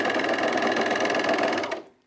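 A sewing machine edge stitching trousers, running in a fast, steady whir of needle strokes for nearly two seconds, then stopping abruptly, close and loud with no talk.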